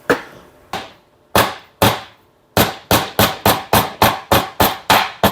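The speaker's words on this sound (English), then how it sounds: "I'm just using a brass hammer" Sharp metallic brass hammer taps on a seal in a Kohler Courage engine ring out one by one, first spaced apart, then settling into a quick steady rhythm of about a dozen strikes, close and clear.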